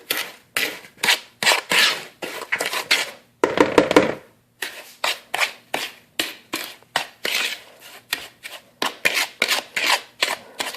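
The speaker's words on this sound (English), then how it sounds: "I like to mix it in just to see the sugar and the butter gets mixed in good" Sugar and butter are worked into flour in a bowl for Guyanese bake, a run of rhythmic gritty scraping and rubbing strokes, close and fairly loud with short gaps and no talking.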